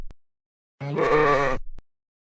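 A single sheep bleats once from close by, a wavering harmonic cry of about a second, set against silence with a faint click before and after.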